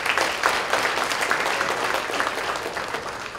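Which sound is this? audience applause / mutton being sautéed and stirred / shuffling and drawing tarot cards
audience applause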